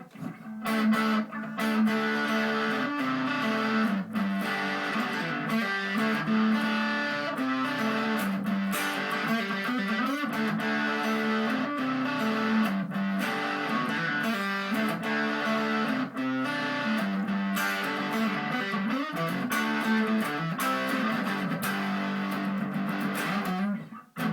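A heavily distorted electric guitar plays continuously, a thick buzzing tone with sustained notes and riffs throughout, no voices.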